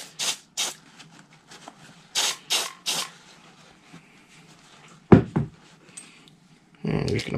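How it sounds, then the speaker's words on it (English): WD-40 sprayed onto RC crawler bearings: several short, hissing aerosol bursts in a quick sequence, then handling knocks and rattles close by. "Doesn't hurt to spray some WD-40 on them too."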